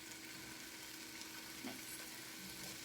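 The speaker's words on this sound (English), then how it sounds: "I'm gonna go ahead and throw in the sausage in there. It's nice and sizzling." Sausage sizzles in a frying pan sprayed with cooking spray, a soft, even hiss of frying fat that continues steadily throughout, faint and close with no voices.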